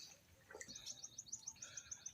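Several small birds chirp and tweet outdoors on a morning in rural Pangasinan, a quick series of bright, evenly spaced calls repeating at mid distance, with no talk over them.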